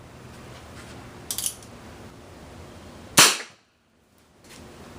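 A single sharp, loud crack of a Remington .22 short round fired from about five to six feet into an apple, preceded by a small mechanical click and followed by near silence.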